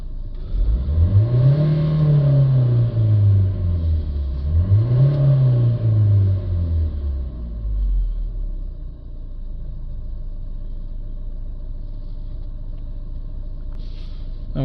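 A Vauxhall Vivaro van's diesel engine, fault-coded P2002 for a clogged particle filter, revs up and back down twice in smooth swells, loud and close, then settles into a steady idle.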